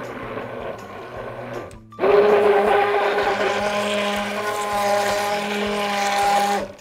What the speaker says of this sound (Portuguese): Então, ó, mixer.